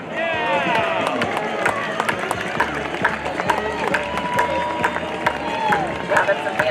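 Rapid, rhythmic stepping and slapping from a jump rope team's footwork during a street parade, with a crowd cheering and chattering around it and music playing, dense and steady throughout.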